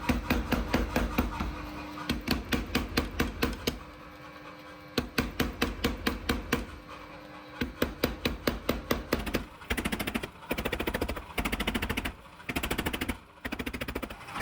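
A power hammer pounds a forged multi-layer steel billet, drawing it out into a long bar: loud, rapid, evenly spaced blows in long runs with short pauses between them, close by with no talk.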